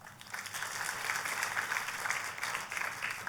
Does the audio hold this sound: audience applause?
yes